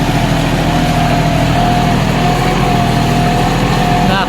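Two-wheel walking tractor engine running steadily in a rice paddy, a continuous loud puttering drone with a steady low hum throughout, with voices talking over it.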